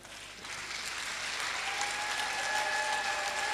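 A crowd at a pastor's installation service in a hotel hall claps steadily, dense applause swelling in and holding at an even level throughout.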